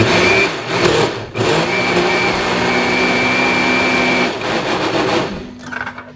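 Blender whirring through sofrito ingredients, loud steady motor hum that stops briefly, restarts, then winds down near the end.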